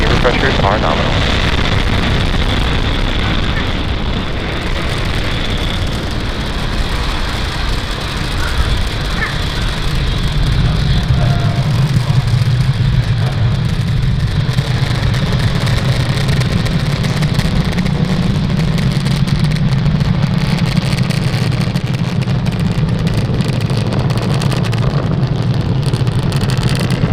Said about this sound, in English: Falcon 9 has cleared the tower, lifted off from Cape Canaveral Space Force Station